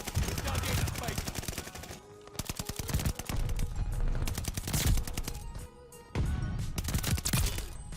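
A suppressed NZ-41 rifle in a shooter game fires rapid, steady bursts of clicking, thudding shots in long strings broken by short pauses, and nobody speaks.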